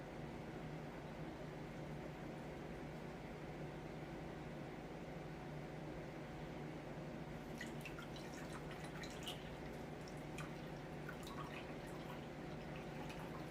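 Water draining and dripping from hash wash bags, a faint steady trickle over a low hum, with a scattering of small, irregular drips becoming audible in the latter half.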